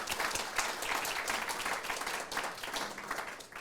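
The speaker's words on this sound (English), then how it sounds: "Another round of applause for Thit." A cancer forum audience gives a speaker another round of applause, a steady wash of many hands clapping at moderate distance for the whole stretch.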